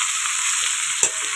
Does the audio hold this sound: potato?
yes